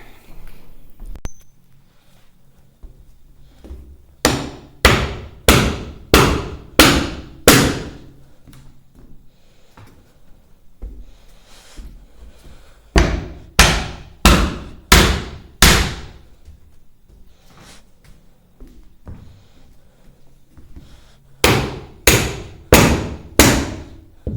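Douglas fir floor planks are hammered into place in a mountain cabin: three separate bursts of five or six loud, evenly spaced blows, with quiet pauses between the bursts.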